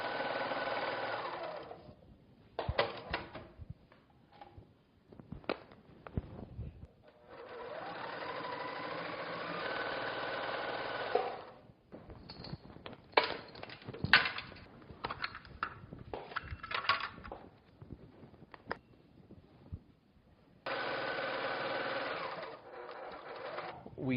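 Quilting machine on a quilting frame stitching the last row of a quilt, running in long steady bursts with short pauses and thuds in between, close and clear, while a person talks softly.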